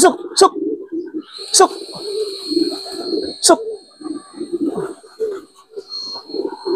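Racing pigeons coo softly in low, rolling murmurs, punctuated by a few sharp clicks and a faint high whistle, with a person speaking intermittently.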